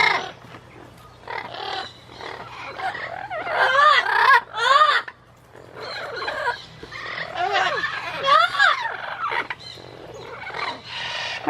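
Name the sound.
lilac-crowned and blue-fronted Amazon parrots calling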